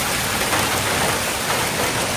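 A hail storm in Bend, Oregon with golf ball-size stones pelts surfaces in a dense, steady roar of impacts that continues evenly throughout, with no voices.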